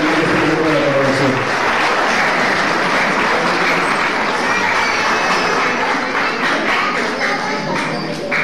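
Loud, continuous crowd applause at a quinceañera coronation, a dense steady roar of many clapping hands with a busy, noisy hall behind it.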